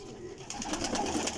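Pigeons in a breeding setup coo softly and steadily, close by, in a short burst of low, rolling calls.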